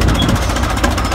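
A vintage Caterpillar crawler tractor's engine runs steadily at a historical construction equipment show, a close, loud, continuous low chugging rumble with rapid knocking pulses and no pauses.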